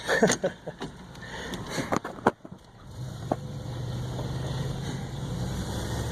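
A 1992 Chevy Silverado Z71 4x4 pickup with a quieter muffler drives along, its engine rumbling as a steady low drone after a few sharp knocks and handling noises at the start.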